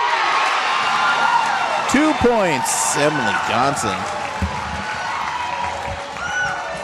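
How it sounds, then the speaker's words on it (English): A home crowd cheers and applauds at a DSU women's volleyball match against Jamestown (N.D.). The roar stays steady and fairly loud throughout, running under an announcer's continuous play-by-play. "Now the crowd starting to get excited about this game"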